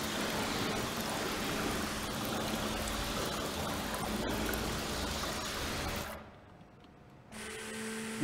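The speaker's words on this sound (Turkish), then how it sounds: "Araba yıkandı." Water running and splashing steadily as a car is washed in a car dealership simulator game, continuous for about six seconds, then cutting to near silence before a faint hum resumes.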